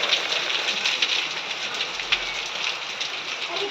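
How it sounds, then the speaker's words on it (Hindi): Heavy rain mixed with hail pours down steadily at a village house, a dense, hissing downpour with scattered sharper impacts throughout. "इतनी तेज बारिश और ओले।"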